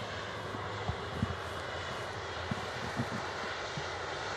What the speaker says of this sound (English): Virgin Atlantic A330 taxiing past here